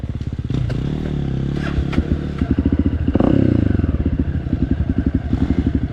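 A dirt bike engine rides a forest trail in Florida's Croom area, a steady motorcycle drone with rhythmic pulsing as the rider works the throttle, mixed with clattering and scraping from the trail, loud and close throughout.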